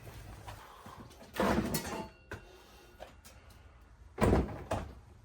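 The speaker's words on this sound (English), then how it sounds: "I dropped the stock bumper off the ground onto the ground" The stock bumper from a Mitsubishi Eclipse is dropped onto the ground: two dull, heavy clunks a few seconds apart, with faint rattles and shuffling around them.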